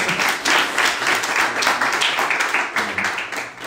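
An audience claps in church, a dense burst of applause with uneven swells that stays loud throughout and thins slightly near the end.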